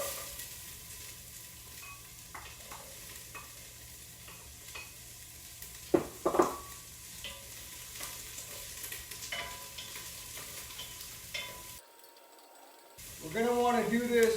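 Onions frying in a pan over medium heat, giving a steady soft sizzle with occasional scraping stirs and a couple of louder clatters, then a brief lull before the sizzle returns.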